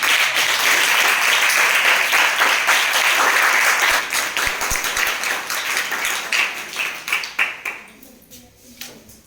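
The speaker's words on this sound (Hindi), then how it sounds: "जोरदार ताली" Students seated in a school science-house session clap loudly and steadily as a dense crowd for about eight seconds, then the applause thins into scattered claps and fades out.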